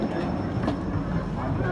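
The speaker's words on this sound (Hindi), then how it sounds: "ये आ गई है हमारी ट्रेन।" Double-decker passenger train arriving at a station platform, a loud steady rumble of rolling wheels and machinery close by, with a crowd and voices mixed into the noise.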